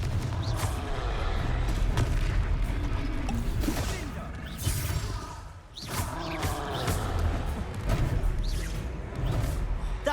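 Continuous heavy booming blasts and crashing impacts from Confringo spell explosions during a fight in the Hogwarts Legacy video game, loud and dense throughout with a brief dip midway.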